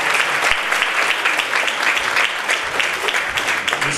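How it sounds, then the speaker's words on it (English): An audience at a women's event applauds, a dense, steady wash of many hands clapping at once, loud and sustained for the full four seconds without talk over it. "Let's give a round of applause, Commissioner Eames, as you come out"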